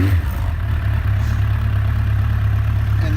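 A warm Suzuki Bandit 1200 motorcycle idles steadily nearby, a low, constant engine rumble with slight mechanical clatter and no voices.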